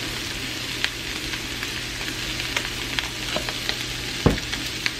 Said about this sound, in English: I'm just going to stir this all up.